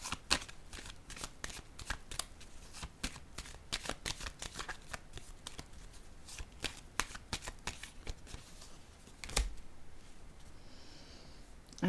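Tarot cards handled and laid down one after another, a long run of crisp card snaps and slaps in fast irregular rhythm, close and clear, with a louder thump near the end.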